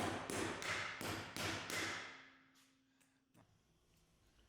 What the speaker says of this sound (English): place the other cap on the opposite side and seat that into place as well